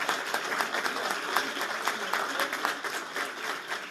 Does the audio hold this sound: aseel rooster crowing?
no